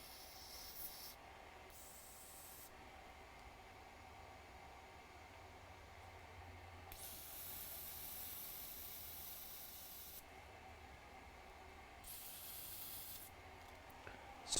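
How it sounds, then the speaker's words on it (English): An aerosol can of flux remover sprays in several bursts of faint, airy hiss, separated by quieter pauses and running under a low steady background noise, with no speech. "Sprayed some flux remover on that."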